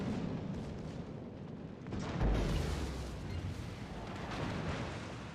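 An armor-piercing tank shell fires in an online tank game, a deep booming blast that swells near the middle and rolls into a long rumbling tail over dense, continuous battle noise.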